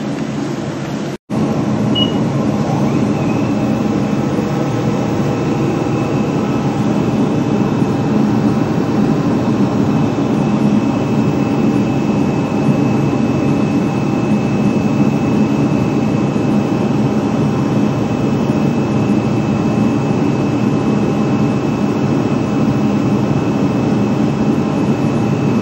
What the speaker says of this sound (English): So let's go on and spin coat our photoresist.